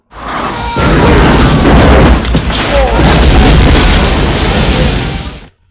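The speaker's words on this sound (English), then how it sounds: "Oh man, more explosions coming up" Explosions from the action film Con Air, 1997, roar as a loud, continuous blast with a deep boom and crackling debris for about five seconds before cutting off.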